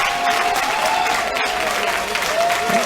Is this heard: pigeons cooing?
no